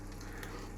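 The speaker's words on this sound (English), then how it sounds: "The cheese on the bottom, once we've turned it over, that's going to start frying, that's going to go crisp" Ham and cheese frying in a pan for grilled cheese on toast, a faint, steady close-up sizzle and crackle with no talking.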